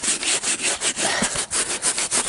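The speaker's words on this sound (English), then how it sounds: "And now get one of these and get to scrubbing." A brush scrubs sandy carpet pulled from a BMW E36 car: loud, close, rhythmic back-and-forth rasping strokes about five per second, continuous with no talking.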